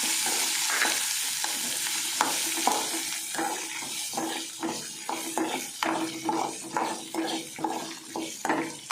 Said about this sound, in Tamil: இஞ்சி போட்டு நல்லா வதக்கணும்.